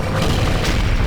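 Bomb explosion in the video game Like Dreamer during an Expert difficulty speedrun, a loud, dense, rumbling boom filling the whole short moment with no talk.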